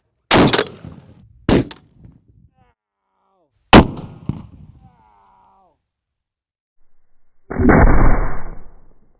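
A 20mm rifle fires armor-piercing rounds at a zombie torso target: three loud, sharp booming reports spaced a couple of seconds apart, each trailing off, then a sustained rushing roar near the end.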